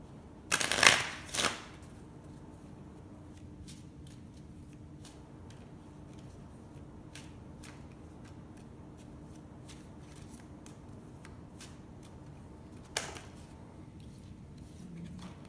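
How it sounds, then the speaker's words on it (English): A crystal oracle card deck being shuffled up close, a brief riffle of cards near the start followed by quiet handling, then a single soft card tap near the end, in a hushed room. "we're gonna pull a card from the crystal deck."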